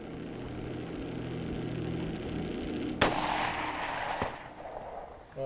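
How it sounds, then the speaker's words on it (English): A single loud gunshot rings out during an outdoor hunt, a sharp crack followed by a rolling echo and a fainter second report, over a low steady background rumble. "I'm gonna take the shot."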